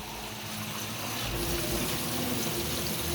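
Water poured from a tap into a cooking pot of chicken feet adobo with soy sauce, a steady gushing fill close by and fairly quiet, rising slightly in tone as the pot fills.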